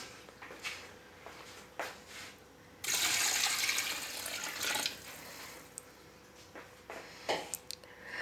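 Water pours steadily into a cooking pot for rice, a loud rushing stream lasting about two seconds, with scattered clinks and handling knocks before and after.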